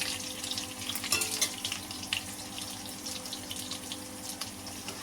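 Fried potatoes stirred in a pan of hilsa curry give a soft sizzle with scraping and clinking of the spoon, moderate and close, in irregular bursts without speech.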